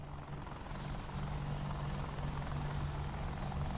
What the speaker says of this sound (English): if you listen, you can hear more helicopter sounds